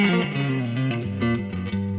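Guitar through a clean Kemper profile with a Fender-like tone, playing a sustained chord-and-note passage that shifts pitch steadily throughout, full and close with no talking.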